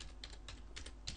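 Web address typed on a computer keyboard, a quick run of soft clicking keystrokes, close and fairly quiet, with no talking.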